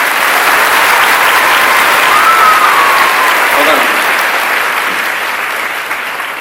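An audience claps in a dense, steady round of applause that fades slightly toward the end.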